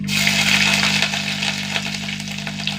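Fenugreek seeds splutter in hot oil, a dense crackle of sharp pops and sizzling, loud and close at first and then settling into a steady fizz.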